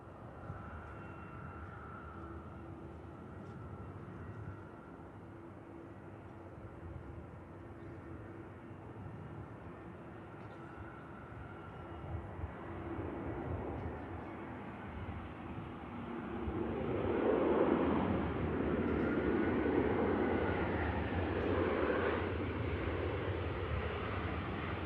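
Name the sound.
EasyJet airliner landing at Manchester Airport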